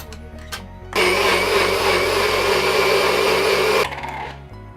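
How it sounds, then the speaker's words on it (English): Kitchen blender puréeing butternut squash soup, a loud, close, steady motor whir that starts abruptly, holds for about three seconds and then cuts off, with quieter background hum before and after. "we're gonna blend our soup in here. We're gonna pour it to a blender"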